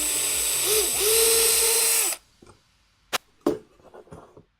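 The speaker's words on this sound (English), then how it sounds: "So I'm just gonna start little tiny pilot holes." A power drill boring small pilot holes for a deskmat wall mount, a steady loud whir for about two seconds that then cuts out, followed by a few brief knocks and clatters.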